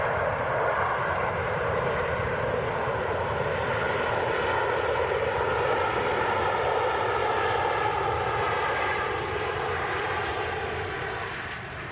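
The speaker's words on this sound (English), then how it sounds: "Buttery smooth, just like the landing on this Virgin Atlantic A330" Loud, steady roar of a Virgin Atlantic Airbus A330's engines during landing, a sustained broadband rumble heard from inside the cabin that eases slightly in the final seconds, with no voices.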